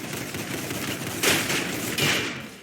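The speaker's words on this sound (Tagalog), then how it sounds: "Ang lakas ng shotgun eh." Shotgun blasts in the Roblox game Arsenal, two loud booming shots about three-quarters of a second apart over a steady bed of game noise.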